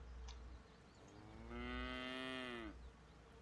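One long, drawn-out cow moo in a farming video game, loud and close, rising and then cutting off, over a faint steady background.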